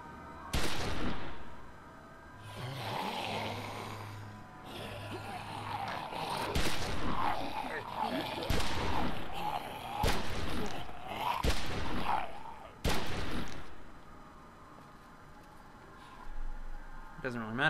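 Gunshots in The Walking Dead video game, sharp single cracks fired at irregular intervals and spread across the scene, mixed with game sounds and voices talking.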